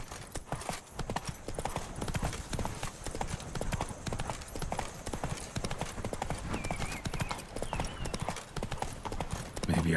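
Galloping horse Roach in The Witcher 3, a fast, continuous rhythmic clip-clop of hooves close by, with a brief whinny near the end.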